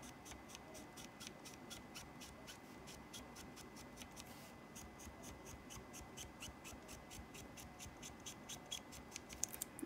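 A Copic BG10 marker is stroked across paper, giving soft, quiet, rhythmic scratchy swipes repeated at an even pace, close up and alone.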